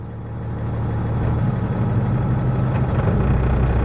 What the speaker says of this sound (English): we're going to go ahead and fire up the pony motor